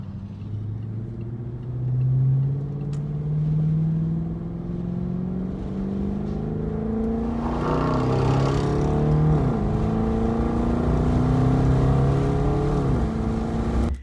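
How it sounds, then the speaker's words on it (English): Freeway traffic passing an open car window, a steady engine drone with rising, sweeping tones and repeated whooshes of cars going by, loud and continuous with no talk. "I think that was just traffic on the freeway"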